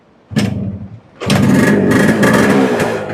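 A used motorcycle engine at a used-bike sales market sputters briefly, then catches and starts, settling into a loud, close, continuous revving with surges in pitch.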